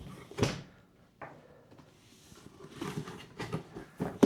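Cardboard box packaging for a Magnet Mod MagStand Pro being opened at its taped seams, close crinkly tearing and scraping in irregular bursts with soft thumps of handled cardboard.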